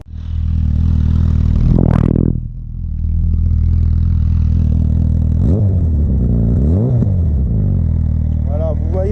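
A motorcycle engine starts and settles into a loud, steady idle, with a brief rev surge near the start and a few swelling revs later on, all heard close up.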